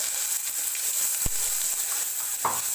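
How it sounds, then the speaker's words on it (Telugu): Ginger, garlic and coriander paste frying in a pan gives a steady, close sizzle with a few sharp pops and clicks of utensils. "బాగా వేగనివ్వాలండి"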